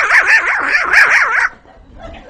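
A human voice imitates a poor man's dog barking, giving a run of rapid, wavering yelps and whimpering barks up close, then trailing off into faint murmuring.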